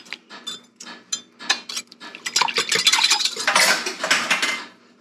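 A utensil stirs thick homemade meatloaf mixture with added warm water in a bowl: uneven scraping and clinking strokes that start sparse and grow busier and denser toward the end, close up and without speech.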